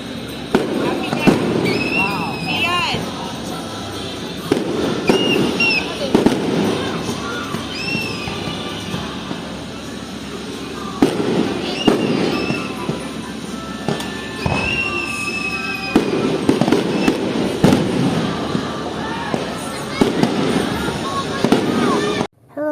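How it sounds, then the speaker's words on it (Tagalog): Fireworks at the Enchanted Kingdom theme park pop and boom over and over for a long stretch, with crackles and whistling bursts over crowd noise and voices throughout. "The fireworks are starting."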